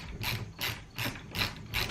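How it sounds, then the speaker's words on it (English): A ratchet wrench tightening locking nuts with washers onto bolts in a workshop ladder build, five rapid rhythmic clicking strokes, close and clear, with no speech. "just going to use some washers and locking nuts here on the back side"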